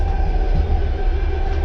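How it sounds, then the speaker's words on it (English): Soviet-era overnight passenger train in Belarus rattling along the tracks, a steady loud low rumble and rocking clatter heard from inside a carriage near the toilet, with no voices. "getting a bit rocky on the train already"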